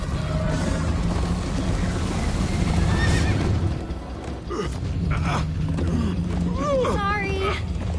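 Several horse neighs and whinnies in Minecraft: Story Mode rise over a busy, loud game soundscape with music and voices, the calls getting sharper and more frequent toward the end.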